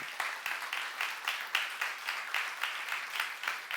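Rhythmic unison clapping from a church youth congregation, about three claps per second in a steady beat, moderately distant with no talk over it.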